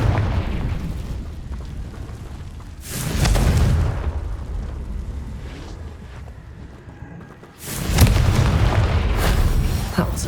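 Confringo fire spell explosions in the video game Hogwarts Legacy: two heavy, booming blasts with a rushing roar, one near three seconds and a louder one near eight, over low rumbling game ambience.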